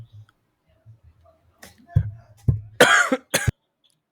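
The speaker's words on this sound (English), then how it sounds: "I'm sick, so I have like an uncontrollable cough" A sick person's repeated coughing and throat clearing, starting with low scattered sounds and building to a cluster of harsh, close coughs near the end, with faint low speech-like murmur at the start.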